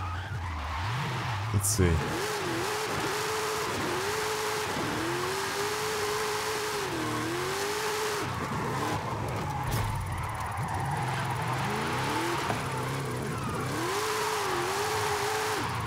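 A car drifts on snow tyres in Forza Horizon 5, its engine revving and wavering in long, loud surges as the tyres skid continuously, with a player's voice briefly heard over the engine.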